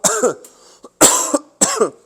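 Three harsh coughs in a row, close and loud, separated by short pauses, with a faint throat sound between the first two.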